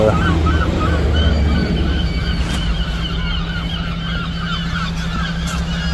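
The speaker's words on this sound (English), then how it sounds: "bloody seagulls everywhere." Gulls call repeatedly over a steady low hum, their cries rising and falling at moderate distance, with no one speaking.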